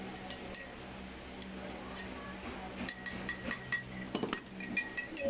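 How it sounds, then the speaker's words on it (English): A spoon stirs honey and lemon in a glass, with faint handling at first, then a run of light, quick clinks against the glass toward the end, close and soft. "Mix it up until the honey is not yet, it's no longer at the spoon or not sticking to the spoon"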